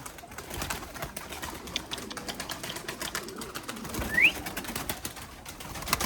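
Limoni breeding pigeons in a loft coo softly and low in the background, with scattered rustling and one brief, thin squeak partway through.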